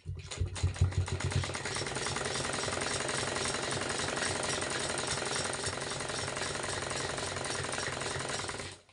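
A sewing machine runs a straight seam on a salwar. It gives a few short starting bursts, then a fast, steady, rattling mechanical chatter for several seconds and winds down at the end, with no talk over it.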